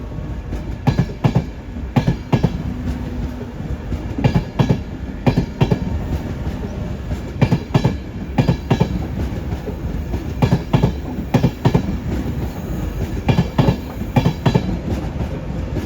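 Class 91 electric locomotive-hauled train running through Doncaster station, its wheels beating out a steady, loud clickety-clack over rail joints with rumbling carriages and intermittent sharp clatters, no voices.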